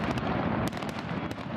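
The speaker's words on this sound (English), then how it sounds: "Fireworks ended a day of festivities celebrating King Frederick X and his Australian Queen." Fireworks at a day of festivities celebrating King Frederick X and his Australian Queen, a dense run of crackling bursts and sharp pops with a few louder cracks standing out, loud and continuous throughout.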